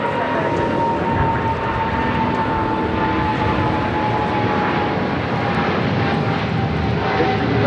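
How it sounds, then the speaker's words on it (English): A Boeing 777-200ER jet takes off on runway 25 right at LAX, a loud, continuous engine roar that holds steady and dense throughout with no speech. "I got that 777 rolling down at 25 right"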